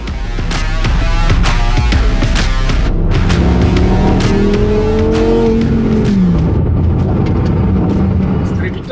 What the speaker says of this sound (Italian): allora lì la sinfonia del 10 cilindri si fa apprezzare in tutta la sua bellezza